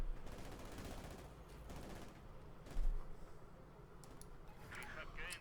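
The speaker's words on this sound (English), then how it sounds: "Shooting away there with the PPSH-41s." Soviet PPSh-41 submachine guns fire in Company of Heroes 2, a steady crackle of automatic bursts under battle noise and a commentator's voice, with a louder thump near the middle.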